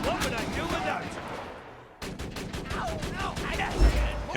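Turret gunfire in Borderlands 2 crackles in rapid repeated shots, briefly dropping off midway before resuming with louder bursts and a heavy thump near the end, with voices talking underneath.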